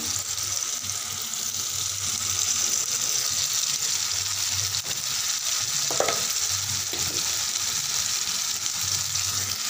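Masala paste sizzling and frying with melted tomato in a pan, a steady, close, even hiss throughout with a faint stir or scrape midway.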